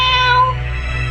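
A human voice imitates a cat's meow with one loud, drawn-out, nasal meow, close and clear, delivered during a children's Sunday school service.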